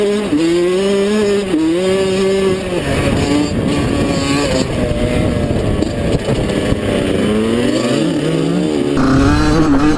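A motorcycle pulls away in first gear during a race lap, engine revving loud and close with rising pitch, a brief dip as revs fall, then climbing again near the end.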